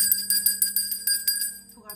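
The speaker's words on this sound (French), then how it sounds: "on sonne la cloche pour réveiller les esprits, pour appeler les esprits" A bell rings in a steady series of bright metallic strikes, about one every eighth of a second, sustained and clear with no talk over it.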